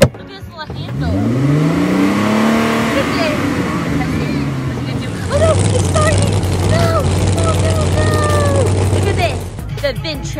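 A kid's ride-on VinChat 4500Z machine drives off at a Touch A Truck event, a motor rising in pitch then settling into a steady drone, with children and adults talking and squealing nearby.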